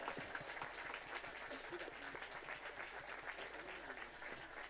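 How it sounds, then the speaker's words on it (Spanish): Sustained audience applause at a live folk music show at a rural expo, steady and dense clapping throughout, moderately distant with a few voices mixed in. "Rubricamos con este aplauso, por favor, cerrado y de todo el mundo."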